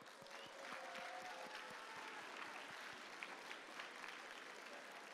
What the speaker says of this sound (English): Please show your appreciation for our teachers and business professionals with a round of applause